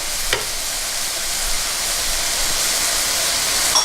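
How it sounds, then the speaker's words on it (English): Tomato sauce with a meatball cooking in a pan on medium-high heat, a steady close sizzling hiss that holds throughout, with a faint clatter near the start. "over here you can see that my tomato sauce is cooking with my meatball"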